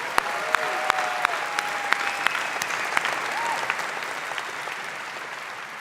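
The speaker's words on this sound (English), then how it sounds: "Let's give him a round of applause again." Large summit audience claps in a sustained, dense round of applause, with a few sharper individual claps standing out near the start and faint whistles and voices mixed into the crowd.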